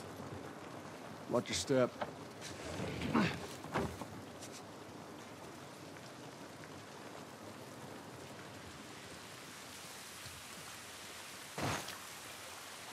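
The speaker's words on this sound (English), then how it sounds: "This rain ain't gonna do us any good" Steady rain hisses throughout a rainy outdoor scene in the video game The Last of Us Part 1, a constant broadband wash with a few brief spoken lines and footstep-like knocks over it.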